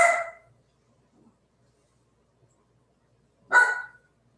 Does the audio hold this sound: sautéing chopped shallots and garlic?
no